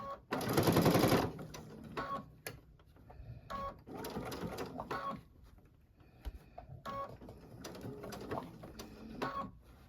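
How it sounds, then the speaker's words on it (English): A sewing machine stitches a snow globe wall hanging, with a loud close burst of rapid stitching at the start followed by shorter, quieter runs and handling noises. "I'm just gonna get this sewn in place"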